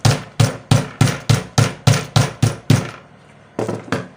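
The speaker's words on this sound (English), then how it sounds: "So I'm going to use my hammer to just" A hammer strikes down on a fabric-covered button shell, ten sharp, evenly spaced knocks in quick rhythm, then a short pause and a couple of softer closing taps, close and loud with no talking.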